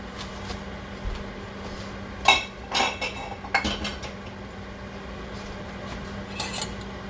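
A utensil clinks and scrapes in a pot of hot and sour soup with a few sharp metallic taps and rattles over a low steady hum, then eases off. There is no talk.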